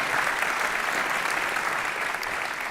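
Steady audience applause at an awards evening celebrating business successes in Meuse and Haute-Marne, dense and even throughout at close range with no voices over it.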